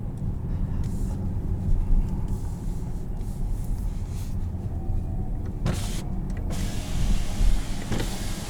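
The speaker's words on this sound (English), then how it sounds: "They had the windows down, that's why I dropped the windows." Electric power windows sliding down on a 2021 Volkswagen ID.4 First Edition, a steady motor hum inside the quiet cabin with a faint hiss, no voices.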